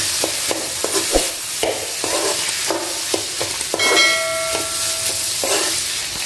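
Mashed potato tossed into a pan with onion, tomato and green chilli for a chapati kurma, sizzling steadily while a spoon scrapes and stirs in repeated sharp strokes, with a brief high whistle partway through.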